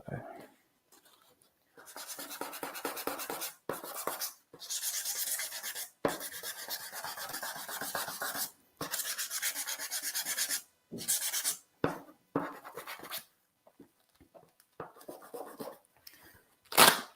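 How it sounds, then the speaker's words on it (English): Fingertip-held sandpaper, used without a sanding pad, rasps over wood coated in ivory lacquer: close, dry scratching in bursts of rapid strokes separated by brief silent pauses. "if I don't use a sanding pad, it's going to allow me to have even more control, because the sandpaper will bend to my finger"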